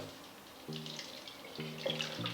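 Soft trickle of water being poured into a bowl, with gurgling tonal bubbles rising and falling in short bursts, quiet and close.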